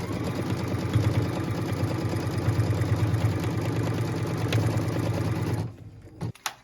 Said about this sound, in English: What we're stitching now is the tack down line for piece number 6.